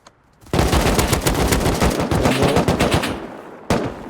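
Rapid automatic gunfire in the survival game Rust, one long loud burst of close shots followed by a short second burst after a brief pause, with no talking.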